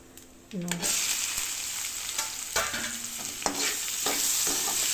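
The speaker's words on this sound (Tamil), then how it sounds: "வெங்காயம் வந்து பார்த்திங்கன்னா நல்லா வந்து ப்ரௌன் கலர் ஆகிற வரையும் நல்லா வதக்கணும்." Chopped onions sautéing in a pan while a beetroot stir-fry is being made, a steady close sizzle broken by repeated scraping stirs, with a brief clatter as they go in near the start.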